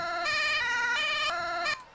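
A new emergency vehicle siren from the Egmond mod of the Emergency 4 game, a steady electronic wail with rising and falling tones, loud and alone, cutting off sharply near the end.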